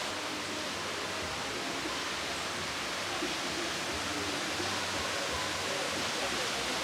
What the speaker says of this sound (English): That's the falls.